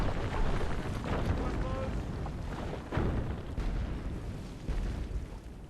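Artillery fire from The Empire faction in the Medieval 2 Call of Warhammer battle game, a dense continuous rumble of booms and bursts with a few stronger hits, loud throughout and layered with battle noise.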